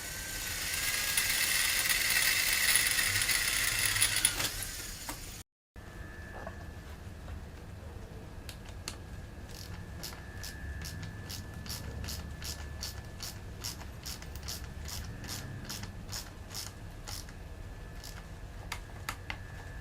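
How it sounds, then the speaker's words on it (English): Ratchet PVC pipe cutter working through PVC pipe: a loud grinding stretch, a brief gap, then a series of sharp, evenly spaced clicks from the ratchet, close up. "One of the most effective tools that I bought for the kayak fishing is a PVC cutter"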